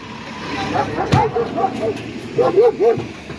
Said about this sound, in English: You're upsetting the dog.